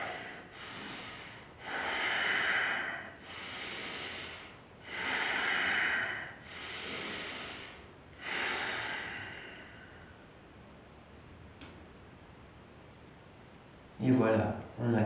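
Slow, deep breaths taken in a guided breathing exercise, five long steady inhalations in a rhythmic series, close and soft, then a quieter pause and a brief rustle at the end.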